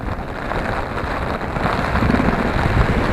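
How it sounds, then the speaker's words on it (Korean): Rain falls on a street in Asakusa, Japan, as a steady wash of close hiss that grows slightly heavier toward the end. "아, 비가 오네."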